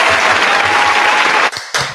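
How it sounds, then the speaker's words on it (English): Dense, loud applause from a crowd fills the first second and a half, then breaks off briefly and returns in short bursts. No one speaks. "Let's get some claps for that."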